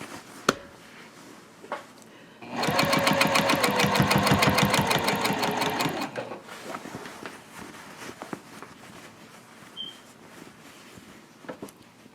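Sewing machine stitching across the bottom of a zip-top tote bag, a steady rapid run of needle strokes for about three seconds after some quiet handling, then stopping.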